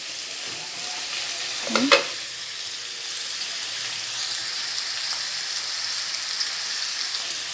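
String beans (sitaw) stir-fried in a pan for chicken adobo give a steady, soft sizzle that runs throughout, with a brief louder stir or scrape near the start and a single short word spoken over it.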